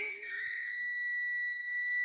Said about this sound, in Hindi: सीटी ना मारे।